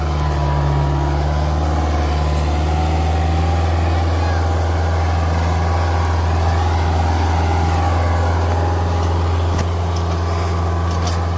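A Kubota tractor engine drones steadily while pulling a harrow with a rotavator, its front end lifting off the ground. The loud, continuous rumble runs throughout with people talking over it.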